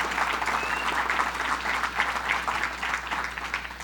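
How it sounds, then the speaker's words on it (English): An audience applauds steadily for Tom Prendergast at the opening of the new 86th Street subway station, a dense, sustained wash of clapping from a crowd that holds for several seconds. "Let's give him a big round of applause and thank him for what he's done"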